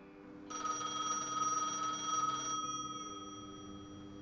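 In a video game, a telephone at a booth rings in a steady, faint trill for about two seconds, then stops, with a low background hum and no talk.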